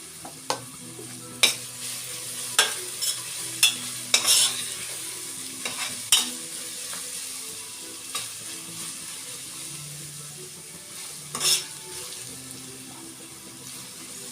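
Cut curry leaves frying and being stirred in oil for simple veg fried rice, a steady sizzle broken by repeated sharp scrapes and clinks of a spoon against the pan.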